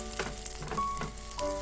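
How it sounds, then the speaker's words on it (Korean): Chopped green onions fry in cooking oil in a pan to make scallion oil. The short burst of close, even sizzling is crackly, with a few faint clinks. "팬에 식용유를 넣고 파를 넣고 파기름을 내고"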